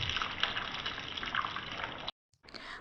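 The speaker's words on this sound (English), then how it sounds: "Fry on medium heat." Poornam boorelu, sweet stuffed dumplings, fry in oil on medium heat with a dense, continuous sizzle and bubbling that cuts out briefly near the end and then resumes, with no voices.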